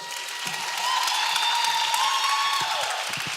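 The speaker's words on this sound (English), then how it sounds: "you have the right to applause for your candidate" Audience at a mayoral forum applauding a candidate, a steady wash of clapping from a modest crowd that swells and holds for a few seconds with some scattered louder claps near the end.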